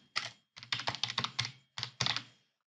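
Quick bursts of keystrokes on a computer keyboard typing a short phrase into a search box, close and clear, with brief pauses between word groups and no speech.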